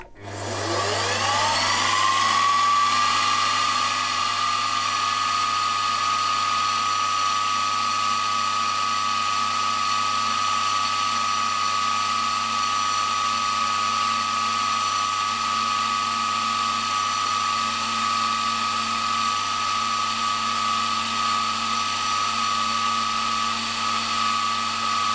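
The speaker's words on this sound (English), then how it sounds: "now I need to drill right through with this number 50 drill bit" A number 50 drill bit bores straight through a small metal ignition part for a Jerry Howell V-twin model engine, following a centre drill. A steady, close machine whine runs unbroken throughout, with no talking.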